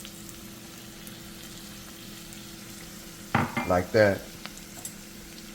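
A spoon stirs half a cup of flour into golden caramelized onions in a frying pan, giving a brief burst of scraping and soft sizzling after a quiet stretch, with a few words of speech nearby.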